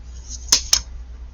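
Two quick, crisp snips of wire cutters cutting jewelry wire into inch-long pieces for a handmade necklace chain, close and sharp against a quiet room.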